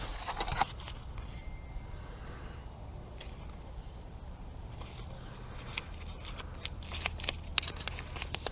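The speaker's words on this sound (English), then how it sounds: "I'll again do some cutting to relief cut to get the tarp back" Scissors snip through RV polyethylene underbelly fabric during a repair, making soft scattered crisp cuts over faint background noise, with a short quiet stretch in the middle and denser snips toward the end.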